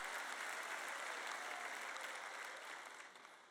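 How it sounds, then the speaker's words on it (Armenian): Sermon audience applauding in church, a soft wash of many hands clapping that holds steady and then thins out toward the end. "Նկատեցիք, դուք չեք ծափահարում այնքան բարձր,"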